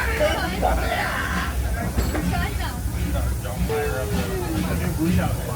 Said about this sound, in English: Welcome aboard the Disneyland Railroad.